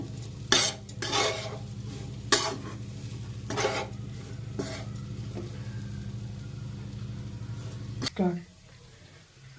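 Lentils and gram flour being dry-roasted and stirred in a pan for kachori filling: repeated close scraping strokes in an uneven rhythm over a steady low hum that cuts off near the end.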